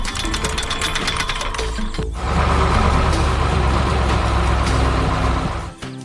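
Heavy roadheader drill arm grinding through hard rock and soil in a 3D construction animation, a loud continuous mechanical churn with rapid knocking that swells into a denser roar midway and cuts off sharply near the end.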